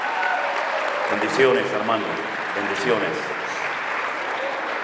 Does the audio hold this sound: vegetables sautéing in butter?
no